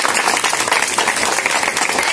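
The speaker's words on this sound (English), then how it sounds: "Clap for you." Audience applause for the teachers at a healthy food preparation competition, a loud, dense and steady burst of many hands clapping together, close and continuous throughout.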